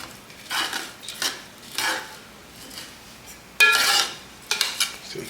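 A utensil stirs rosemary into a garlic herb rice mixture in a pot, giving several close, uneven scraping and clinking strokes spaced over a few seconds.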